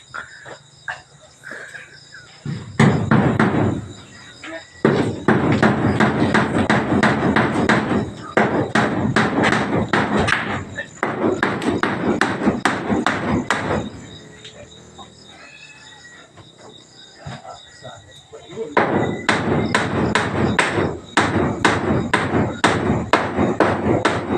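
Rapid metallic hammer taps and knocks repeat in bursts, with pauses between runs, over a steady background drone of insects.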